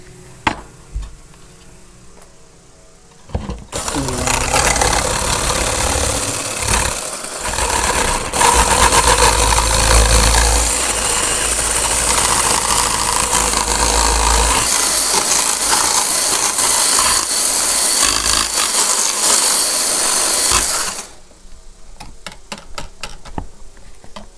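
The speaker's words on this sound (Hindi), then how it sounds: "एग की सफ़ेदी, अब हम उसको बीट कर लेंगे।" An electric beater whips egg whites in a jug, a loud steady whirring drone that runs close for about seventeen seconds before cutting off, with no talking.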